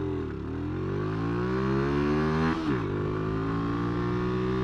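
A motorcycle engine revs up steadily through the gears as the bike gets up to speed, a loud, close, continuous drone with harmonics that rise, dip briefly at a shift, then climb again.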